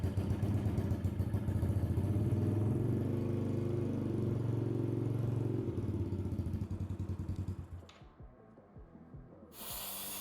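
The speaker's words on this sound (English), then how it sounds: "First thing we're going to do is warm the bike up for a few minutes." A Yamaha TT-R110E motorcycle engine idles loudly and steadily while warming up, then is shut off and sputters down near the end, leaving brief quiet.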